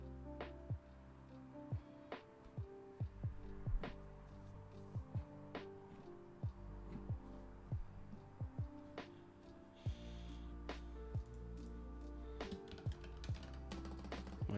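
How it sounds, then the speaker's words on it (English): Quiet, uneven typing on a computer keyboard, scattered key clicks and short bursts of strokes over a low electrical hum, no speech. "My typing is off today."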